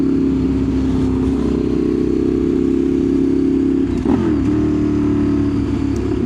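A 2015 Ducati 848 EVO sport bike holds a loud, steady engine drone on the road, then a brief blip and pitch dip marks a quick downshift before the tone settles again.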